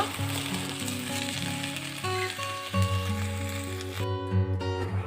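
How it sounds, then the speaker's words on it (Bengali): Pumpkin shoots, leaves and other vegetables tipped into a pan of tempered oil fry with a soft, steady sizzle as they are stirred, partly masked by tuneful background music. "বাকি সব সবজিগুলো দিয়ে দিয়েছি নেড়ে চেড়ে মিশিয়ে নেব"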